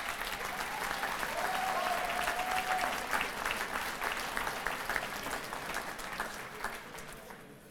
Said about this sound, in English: we ought to applaud it when they do something right